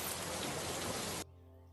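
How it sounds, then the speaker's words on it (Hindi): Steady rain falling, a dense continuous hiss that fills the scene and then drops abruptly to a quieter, thinner patter near the end, with no voices. "इस बीच बरसात हो गई।"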